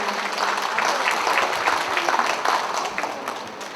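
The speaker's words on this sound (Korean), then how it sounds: "감사의 좀 박수 한번 보내 어떨까 싶은데요" At the opening ceremony of the 2023 Gwangju Able Art Fair art exhibition, a seated audience gives a short round of applause, a brisk, textured patter of many hands that eases off after a few seconds.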